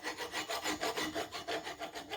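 A hand file rasps steel burrs off the worn nose of a Chevy 283 crankshaft, making steady rhythmic strokes, about ten back-and-forth scrapes in quick succession, close and moderately loud, with no talking.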